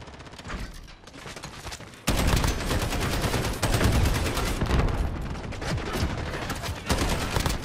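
Dense, sustained gunfire from a Call of Duty Modern Warfare multiplayer match on the Shipment map, loud and continuous with overlapping bursts and a sharp jump in intensity partway through, with no talking.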